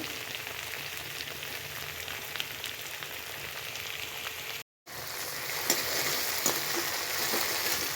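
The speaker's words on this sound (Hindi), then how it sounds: "भिंडिया अपन फ्राई हो चुकी ने तुम देख सकते हो" Okra (bhindi) frying in a pan gives a steady, close hiss of sizzling oil that fills the clip, with a brief dropout partway through and a few soft crackles and stirring scrapes after it.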